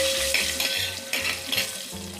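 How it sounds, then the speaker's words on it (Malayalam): Cashew nuts and spices sizzle loudly in hot oil in a pan for a chicken kurma, with intermittent stirring scrapes breaking through the steady frying hiss. "ഞാൻ ഇതിലേക്ക് ഇനി കാഷ്നട്ട് ചേർക്കണം."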